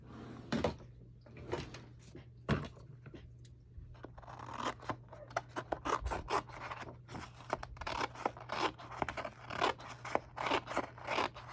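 Chunky scissors snip repeatedly through paper in uneven bursts of crisp cuts and scrapes, close by, with a low steady hum underneath.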